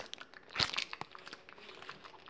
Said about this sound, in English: I heard some munching.